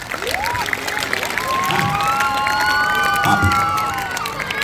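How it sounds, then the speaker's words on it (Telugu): An audience of women applauding and cheering at a Constitution Day speech about Ambedkar, a dense, steady wash of clapping mixed with excited shouts and voices, holding for the whole stretch. "ఒకసారి అంబేద్కర్ చప్పట్లు కొట్టండి స్త్రీలంతా"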